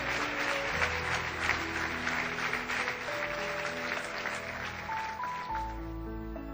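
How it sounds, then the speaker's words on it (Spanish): A church congregation claps during a service, sustained crowd applause holding steady throughout while keyboard notes sound along underneath. "Y también le damos un aplauso glorioso."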